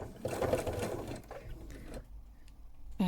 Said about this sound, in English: I'm just going to take a couple of stitches here